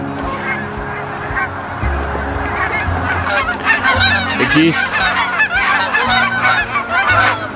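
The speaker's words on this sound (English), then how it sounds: "The geese are here." A flock of geese honking, many overlapping calls growing busier and louder, fairly close.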